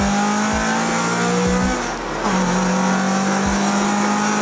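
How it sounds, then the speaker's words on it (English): A Honda Civic EK engine roars loudly and steadily on a race track, its pitch climbing and dropping through several quick gear shifts as it accelerates hard. "Revving is fun, isn't it?"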